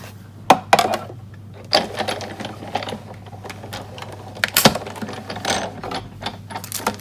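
Die-cutting machine pressing dies through crumb cake cardstock, a series of sharp mechanical clacks and whirring bursts over a steady low hum, close and moderately loud.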